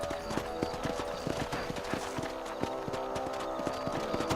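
A horse's hooves clip-clop in a steady, even rhythm on a trail in Red Dead Redemption, close and continuous beneath a low outdoor background.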